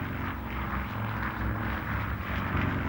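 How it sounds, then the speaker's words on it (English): Steady droning engine roar of a B-29 propeller bomber in flight, a continuous low rumble with no breaks. "the X-1 was carried aloft in the bomb bay of a B-29"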